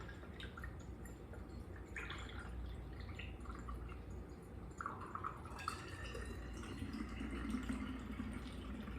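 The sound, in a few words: pouring homemade clove cinnamon mouthwash into a jar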